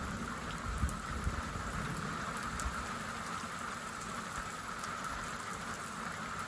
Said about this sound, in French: Incroyable le déluge.